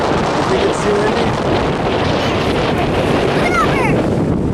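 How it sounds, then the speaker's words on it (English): Strong wind on a Maryland beach in spring buffets the microphone with a loud, continuous roar, with surf rushing underneath and no clear talk. "I think it's too windy."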